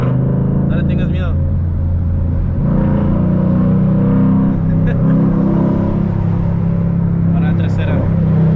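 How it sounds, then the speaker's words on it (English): A Ford Mustang 5.0 pulls in second gear with a steady, deep engine drone and rumble heard from inside the car. People talk over the engine the whole time. "Métela en segunda ahora. Y písale para que sientas el carro."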